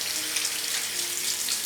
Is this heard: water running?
yes